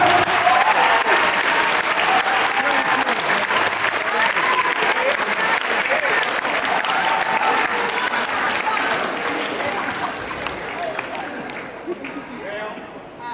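Sustained audience applause from a large crowd at a lecture in Chattanooga, a dense steady wash of clapping that fills the whole stretch and thins slightly near the end, with voices mixed in.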